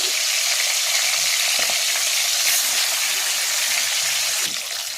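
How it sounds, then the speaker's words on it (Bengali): Large chicken pieces fry in hot oil with a loud, dense, continuous sizzle and crackle close up, a few faint stirring knocks underneath; no voices. "মাংসগুলোকে একটু লাল লাল করে ভেজে নেব।"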